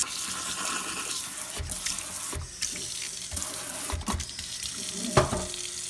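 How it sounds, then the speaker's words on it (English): Kitchen tap water runs steadily into a sink and garbage disposal to rinse out cleaning foam, a close, continuous splashing hiss with a few brief knocks and clatters. "So all I need to do is just run the water and it'll just clean the foam right out."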